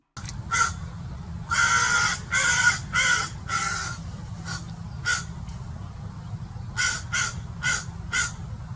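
Several crows caw loudly in agitated bursts while mobbing an owl, harsh calls repeating in clusters with short pauses, over a low steady rumble.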